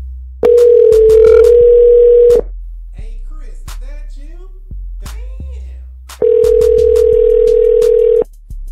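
A telephone line tone sounds while a call is being placed: two loud, steady tone bursts of about two seconds each, separated by a longer quiet gap with faint clicks and brief voice sounds.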